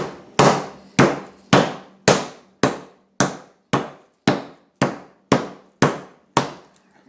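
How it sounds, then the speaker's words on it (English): A hammer pounding chicken breast flat under plastic wrap, twelve sharp, evenly spaced thuds about half a second apart, each decaying quickly, close and loud with no talk. "We're just going to pound this out a little bit and try to make it all uniform."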